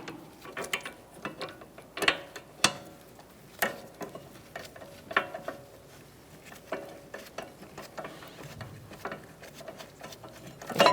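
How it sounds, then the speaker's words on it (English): A ratchet wrench clicks rapidly in bursts while the brake bracket bolt is backed out on the rear brakes of a 2012-2018 Ford Focus, close and fairly quiet with short pauses between runs. "Take that bolt out, set it aside."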